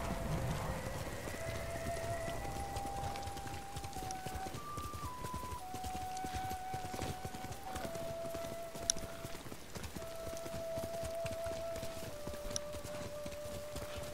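Horse hooves clip-clop in a steady trotting rhythm in the video game Ghost of Tsushima, faint and continuous, with a sustained musical tone playing in the background.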